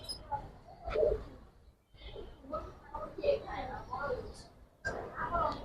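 Giribaz pigeons coo softly at a pigeon market in Old Dhaka, their low calls coming and going beneath steady bargaining chatter from nearby men.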